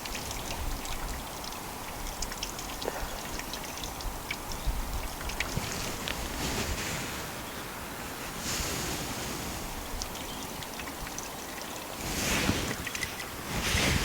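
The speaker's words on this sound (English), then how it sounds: "All I like to do is drain some of the water off." Water being drained off soaked fishing pellets in a container outdoors during spring carp margin fishing, with a continuous splashing, trickling wash and a louder gush near the end.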